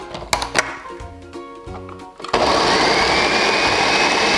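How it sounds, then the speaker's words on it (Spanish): A kitchen blender whirs loudly and steadily, liquefying sautéed ingredients with added water for a Honduran crab and coconut soup, starting abruptly after clinks and knocks of setting up and running alone at full volume. "Vamos a ponerlo a la licuadora para licuar esto."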